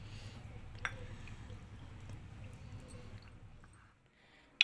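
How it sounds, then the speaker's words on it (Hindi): Water poured into three tablespoons of cornflour and stirred to make a smooth thickener for soup: faint, soft squishy mixing and a few drips over a low background rumble, with no talk. "अब इसको हम ये पानी डाल के थोड़ा थिक कर लेंगे।"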